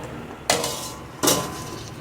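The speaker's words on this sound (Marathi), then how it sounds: "आता आपण ह्याच्यावर झाकण देऊयात।" Metal lid set onto a pot of boiling stuffed taro leaf rolls, two sharp close clanks about three-quarters of a second apart, each ringing briefly before fading.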